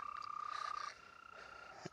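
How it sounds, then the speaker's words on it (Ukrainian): Frogs in a field pond give a faint, brief burst of croaks and a sustained trilling call, with quiet outdoor background and no speech. "Ще якісь жаби, ще щось там плаває таке."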